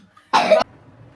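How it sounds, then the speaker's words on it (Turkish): A single short, harsh cough from a boy bursts out close by, then quiet background hum follows. "nasıl öksürüyorsun öyle oğlum?"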